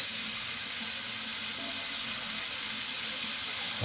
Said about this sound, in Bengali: এবারে এর মধ্যে জল দিয়ে দিচ্ছি